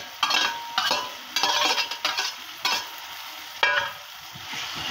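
Chopped tomatoes with salt, black pepper and whole spices are stirred in a frying pan, giving repeated close scraping strokes over a steady sizzle with no talking.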